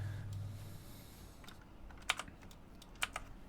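A few sparse computer keyboard keystrokes erase text, soft isolated clicks spaced apart against a quiet room hum, with no talking.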